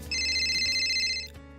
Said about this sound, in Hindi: एक कॉल आता है।